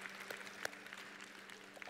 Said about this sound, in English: All right, y'all can give a hand clap.